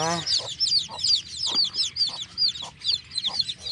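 Newly hatched Ayam Cemani chicks and chickens, close by, give a steady run of high, repeated peeps about twice a second, with softer lower clucks between them.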